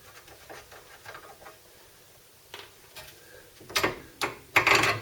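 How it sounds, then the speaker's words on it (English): A ball joint nut being undone on a T3/T25 bus gives a run of light ratchet clicks and metallic ticks, building to several louder, sharper knocks near the end, close by with no talking. "Undo that nut."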